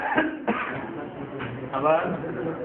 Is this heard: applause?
no